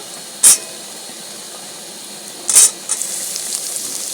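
Potatoes and papaya frying with onions in a pan, heard as two brief sharp hissing bursts followed by a steady, fairly loud sizzle that carries on to the end, with no talking.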